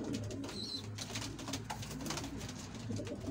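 Homing pigeons coo at their loft, a low soft rolling call repeating steadily and close by, with faint bird chatter behind.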